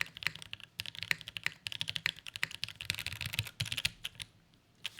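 Rapid keystrokes on a mechanical keyboard fitted with a neon spacebar, a dense run of sharp clicks and clacks with louder thumps from the spacebar, close and alone with no talking.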